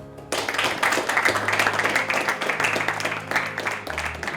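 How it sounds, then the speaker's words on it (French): A football team's group applauds its staff at a youth club gathering, close, dense clapping that starts abruptly and continues steadily for about four seconds. "je voulais que vous m'aidiez à les remercier en les applaudissant"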